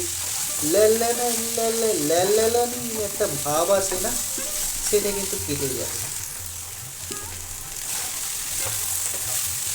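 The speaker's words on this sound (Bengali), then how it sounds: "আগুনটা বেশ জোরে থাকবে, সেই অবস্থায় ভেন্ডিটাকে একটু ভাজাভাজি করে নিতে হবে।" Okra frying hard over high heat in a pan, a steady broad sizzle running throughout, with someone talking over the first half before the sizzle carries on alone.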